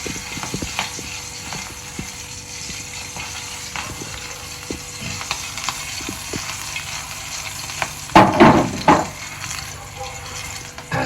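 Food fries in a small amount of oil with salt added, a steady close sizzle with scattered crackles. A louder burst of clattering stirring comes near the end.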